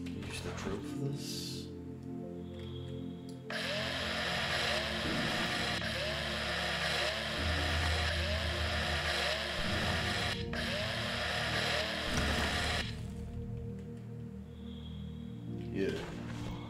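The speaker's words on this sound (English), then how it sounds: "Use the drill for this." A drill in the space survival game Breathedge runs steadily for several seconds with a whirring mechanical grind, loud and near, while someone talks over it.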